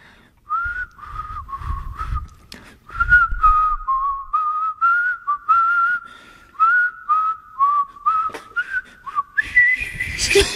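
A person whistles a high-pitched tune by mouth, a wavering melody of short and sustained notes climbing near the top of the whistling range, close and clear, with brief laughter and breath noises in between.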